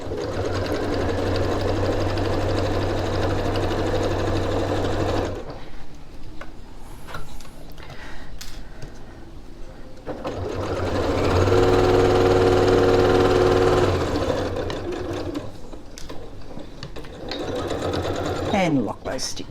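A sewing machine stitches fabric for a reversible tote bag in two long runs with a steady mechanical whir and a pause between them, alongside occasional talk.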